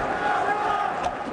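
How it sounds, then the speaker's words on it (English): A crowd at a 2004 NCAA wrestling finals bout roars steadily for a Greco-Roman arm throw, a sustained mass of cheering voices filling the whole moment. "Heard the crowd."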